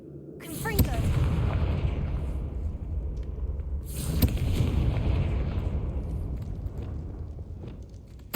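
Confringo blasting curse in the game Hogwarts Legacy: a sharp crack followed by a long rumbling explosive roar, repeated a second time a few seconds later, loud and booming.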